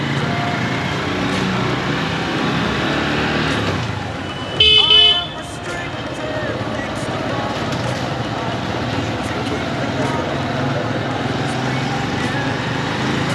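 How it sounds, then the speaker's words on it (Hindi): A TVS Sport motorcycle ridden along a road on a Sunday evening trip around Dehradun, its engine droning steadily with wind and traffic noise throughout, and a brief louder burst near the middle. "I am riding this TVS Sport"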